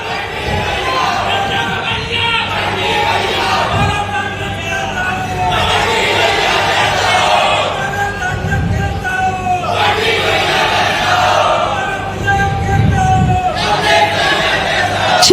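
Large crowd at a Madhya Pradesh political rally in Amarwara claps and cheers in repeated surging waves, loud and continuous, with a voice over a loudspeaker between them.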